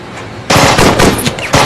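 Gunfire in a film soundtrack: a loud, close burst of rapid automatic shots after a brief quiet lead-in, with several sharp cracks in quick succession.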